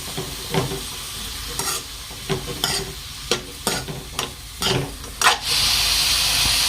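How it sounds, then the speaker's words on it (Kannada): Cabbage egg fry stirred in a hot pan, a spoon scraping and clacking at uneven intervals over a steady sizzle that rises to a louder hiss near the end, close by with no talking. "ಕ್ಯಾಬೇಜ್ ಪಲ್ಯ ಇಲ್ಲ ಪೂರ ಕೈ ಆಡ್ಸ್ಕೊಂಡ್ಬಿಡ್ತೇನೆ ನೋಡ್ರಿ"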